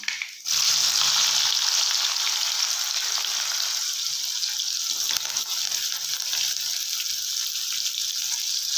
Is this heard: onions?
yes